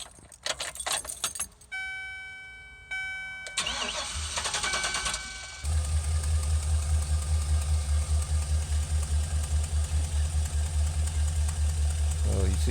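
Keys jingle before a Chevy 2500/3500 cargo van, fitted with a new oil pressure sensor, cranks for a couple of seconds and catches, then settles into a steady, loud, rhythmic idle close by.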